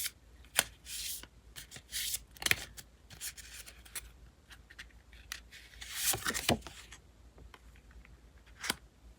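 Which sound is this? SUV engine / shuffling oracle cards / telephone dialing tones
shuffling oracle cards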